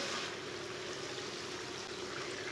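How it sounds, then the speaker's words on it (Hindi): A soft, steady pour of boiled mash lentils into a pan with a wet, sloshing trickle, faint and continuous for a couple of seconds. "उबली हुई दाल डाल लेंगे।"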